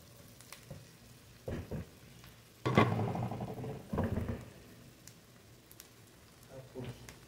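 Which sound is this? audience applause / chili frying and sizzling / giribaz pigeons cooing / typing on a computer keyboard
chili frying and sizzling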